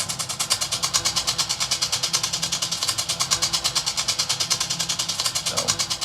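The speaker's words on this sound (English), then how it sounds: "I came across this flutter bow sound where like you're picking against the cello and it's creating this percussive element" A cello played with a flutter bow, the bow picking against the strings to make a percussive rhythm. A fast, steady pulse of scratchy, rasping strokes repeats evenly throughout and stays close and clear, with no voices.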